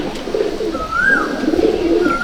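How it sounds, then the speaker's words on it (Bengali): An Andhra pigeon in a loft coos close by in a low, throaty rolling call, with a brief higher whistle-like note drifting over it and no voices. "দুর্দান্ত পায়রা, দুর্দান্ত পায়রা।"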